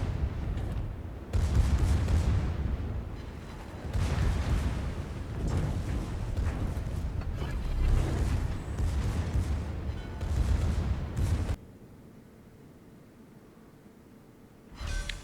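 Warship secondary guns fire in World of Warships, a series of heavy booming blasts with rumbling low-end decay, repeated irregularly for about eleven seconds before cutting to quiet, with one more faint thump at the end.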